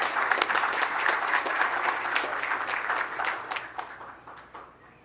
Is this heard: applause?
yes